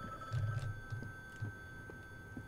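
Telephone ringing in The Bookwalker video game, a faint steady ring tone running throughout beneath a few soft low thuds, with no voices.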